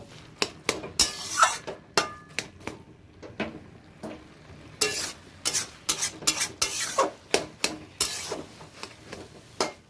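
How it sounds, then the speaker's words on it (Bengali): Cooked vegetarian cabbage being scooped from the cooking vessel into a serving pot, with repeated close metal spoon scrapes and clinks against the pan in irregular bursts, some louder clusters toward the end, and no talking. "একটা পাত্রে আমি বাঁধাকপিটা নামিয়ে নেব।"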